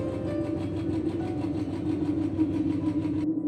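Steady mid-pitched motorcycle engine chugging on an unpaved village road beside a canal, close and continuous with a regular pulsing beat, then cutting off abruptly near the end.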